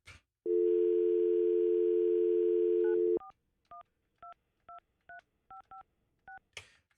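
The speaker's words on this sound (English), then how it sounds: "Our phone system is like crazy. It's like, that was like a fast busy, right?" A telephone dial tone holds steady for a few seconds, then a series of short two-pitch touch-tone beeps sounds as a number is dialed, close and clear, with a brief click at the end and no fast busy signal.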